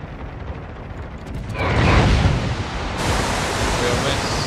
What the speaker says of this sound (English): dive bombs coming in